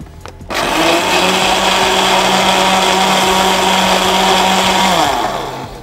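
A blender whirs loudly through iced chocolate coffee with condensed milk, starting abruptly after a short clatter, holding a steady high motor whine for about four seconds, then spinning down.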